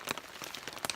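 Rain drums on a camping tent's rain fly in quick, dense, irregular patter, close and fairly loud, with no voices.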